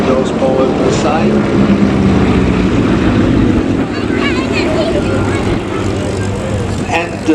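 A twin-engine propeller airliner with Pratt & Whitney 985 engines of 500 horsepower each drones loudly and steadily overhead at an air show, with wind buffeting and a voice talking over it.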